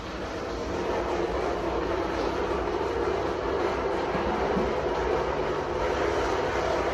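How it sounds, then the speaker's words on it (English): Steady, moderately loud mechanical drone of a water pump running, forcing water out through a leak in a pipe, a constant broadband rush with no talk. "let me turn on the actual pump"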